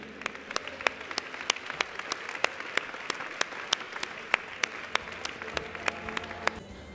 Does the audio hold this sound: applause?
yes